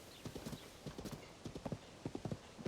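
A horse's hooves clip-clop at a steady trotting rhythm in Zelda: Tears of the Kingdom. The hollow, clattering steps are quiet and sound fairly close.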